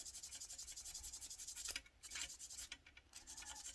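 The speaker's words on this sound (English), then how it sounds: "Now, do a little bit of sanding," Sanding on a plastic model car kit, an ICM Admiral Cabriolet, heard as soft, close rasping strokes in an irregular rhythm with short pauses.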